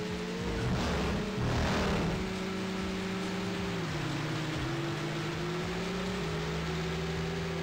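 A Horizon car races around a city circuit in the PC game Screamer 2, its engine droning steadily with pitch shifting up and down through gear changes, close and continuous over a hiss of road noise.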